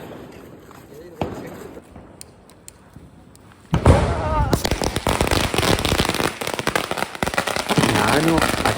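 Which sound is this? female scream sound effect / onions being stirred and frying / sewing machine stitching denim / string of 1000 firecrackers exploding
string of 1000 firecrackers exploding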